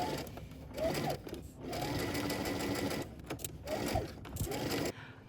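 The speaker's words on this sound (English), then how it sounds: "we're going to head to the sewing machine. We're going to stitch these together using 5/8 of an inch seam allowance." A sewing machine stitching a dress bodice seam at 5/8 inch allowance, running in several rapid bursts of whirring stitches separated by short pauses, close and clear.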